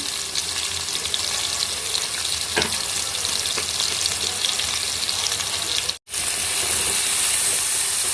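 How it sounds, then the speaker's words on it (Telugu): Sliced onions and green chillies with turmeric sauté in a pan over a low flame, giving a continuous close sizzle and crackle with a brief cut near the end. "ఉల్లిపాయ పచ్చిమిర్చి మంచిగా మగ్గించుకున్నాను"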